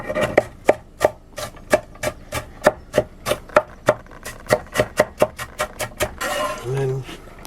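A knife chops Cornish pasty ingredients finely on a board in a narrowboat galley, with about twenty crisp, close, rhythmic strikes at a steady pace before a scraping sweep at the end.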